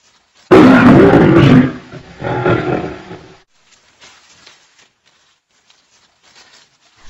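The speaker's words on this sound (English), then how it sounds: "the sound emitted by a lion's roar" A lion lets out a deep, powerful roar that starts suddenly, loud and close, then gives a second, shorter roar and trails off into faint grunts and near silence.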